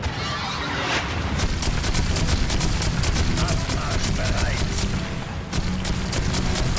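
Rapid bursts of gunfire from the video game Divinity: Dragon Commander crackle almost continuously over a dense rumbling background, with brief pauses between volleys, loud and close like game combat audio.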